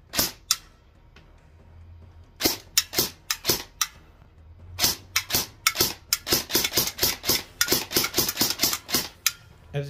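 An E&C 417 airsoft rifle fires 0.36 gram BBs at a 9-inch target about 70 feet away. A few spaced shots come first, then a long run of sharp, loud, rapid reports in quick rhythm, close to the listener.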